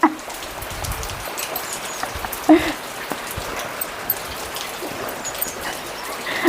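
Steady rain patters on surfaces nearby, a constant hiss with occasional louder drips and faint background sounds.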